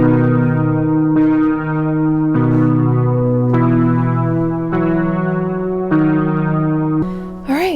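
A short melodic motive on an Ableton Push, a run of sustained synth-like notes with rich harmonics, each changing about every second, steady and close, ending in a brief pitch-swept flourish.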